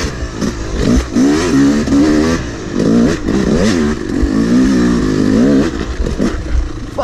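An enduro motorcycle on a dirt lap revs hard on the throttle, its loud engine rising and falling in several close surges without pause.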